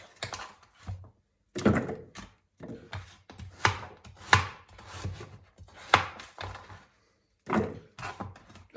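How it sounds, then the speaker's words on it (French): Knife cutting sweet potato into pieces on a board, a run of separate close, solid thunks in uneven bursts with brief silent gaps between them. "Je coupe en morceaux"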